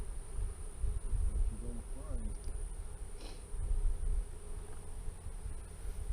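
Bees hum and buzz steadily all around an open hive in Florida, a dense close drone with low rumbling frame-handling noise and a brief voice murmuring underneath.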